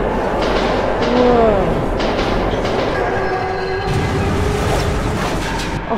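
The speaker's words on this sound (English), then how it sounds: "Oh, ghost train!" Ghost train rumbling and rattling through a tunnel in the video game Metro 2033 Redux, a loud continuous roar with a brief curving squeal near the start, heard alone without talk.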